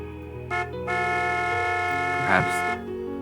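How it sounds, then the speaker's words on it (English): Several car horns blaring at once in the Narcissu video game, sustained overlapping honks of differing pitch starting and stopping over a few seconds. "From behind came the sound of car horns blasting us as we suddenly pulled into the lane."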